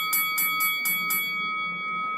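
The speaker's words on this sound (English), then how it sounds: "I really don't think we should be playing that happy bell when an opponent hitter gets a challenge right" A cheerful bell chime plays over a ballpark sound system during a Phillies–Red Sox game after a hitter wins a pitch challenge: five quick, bright, evenly spaced strikes ring out, then a sustained tone fades over steady crowd murmur.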